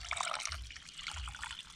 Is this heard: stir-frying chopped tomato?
no